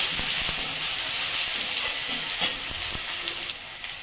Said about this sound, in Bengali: এরপরে দেবো হলুদের গুঁড়ো, রং হওয়ার জন্য কাশ্মীরি লঙ্কার গুঁড়ো দিচ্ছি, দিয়ে এটাকে একটুখানি ভালো করে ভেজে নেব।